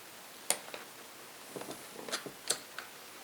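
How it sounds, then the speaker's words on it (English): A few sharp, light metallic clicks, spaced irregularly, from a flaring tool's detents as it is slid and adjusted during a ducted mini-split installation; close and fairly quiet. "as you slide it on there, it like kind of makes a clicking noise"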